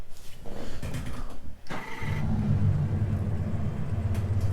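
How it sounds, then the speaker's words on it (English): After a brief cranking whir, a Camaro GT4 race car engine in the video game Assetto Corsa Competizione catches and settles into a deep, loud, steady rumbling idle. "let's have a listen to this engine then"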